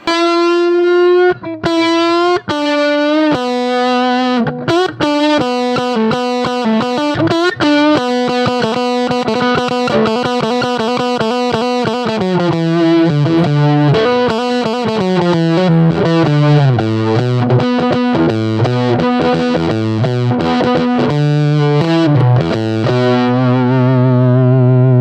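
Electric guitar played through a Birdsong Kestrel amplifier on its standard input, giving a loud, heavily distorted tone: a continuous run of sustained and shifting notes with rich overtones and no voices.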